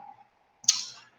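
A single mouse click on a computer during a software demo, one short sharp tick following a faint murmur, isolated in near silence.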